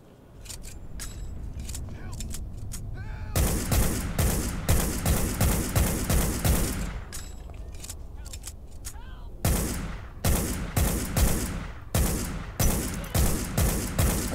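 Gunfire in the stealth video game Hitman, with several long rapid bursts of loud sharp shots separated by brief quieter stretches of lingering game ambience.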